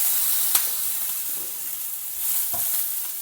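Hing and finely chopped green chilli sizzling in hot oil with jeera for cabbage rice, a bright steady frying hiss with a sharp crackle early on and a faint utensil tap later.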